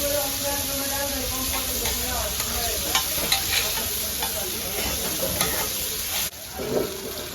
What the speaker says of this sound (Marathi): बघा मस्त तडका दिलेला आहे कढीपत्त्याचा